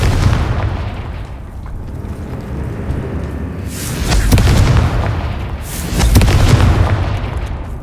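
Confringo spells detonate in the Hogwarts Legacy video game, heavy booming blasts with rumbling low ends, one swelling around the midpoint and another soon after, loud and close over a steady ambient background.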